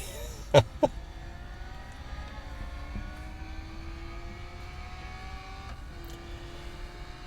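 A car's engine accelerates in the racing video game Real Racing 3, a steady synthetic hum whose tones slowly climb in pitch, with two sharp clicks early on.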